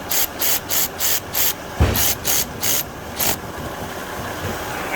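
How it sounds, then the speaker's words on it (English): Quarter-inch drive ratchet tightening a tapered plug on a GM transmission case: a run of quick, even, raspy clicking bursts with a brief pause and a dull knock partway through, close up and with no talking. "we're going to get our little quarter drive and tighten that up"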